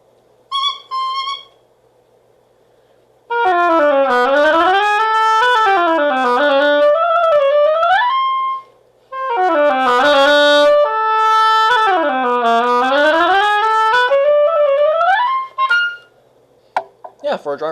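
A dried-out oboe reed being played on its own, giving loud, close, reedy squawking crows that swoop up and down in pitch in two long sustained phrases after a brief opening chirp.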